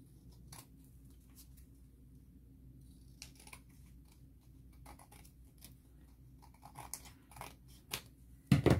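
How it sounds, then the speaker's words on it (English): Scissors trim the edge of a handmade paper bookmark, giving a few soft, quick snips and rustles at close range. They come in brief scattered bursts over quiet room tone, with one louder clatter at the end. "You just trim it down."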